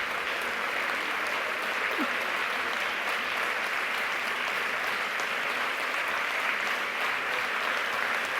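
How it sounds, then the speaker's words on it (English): A conference audience claps in steady, dense applause that holds at an even level from start to finish, with no clear voices over it. "now you're clapping for me"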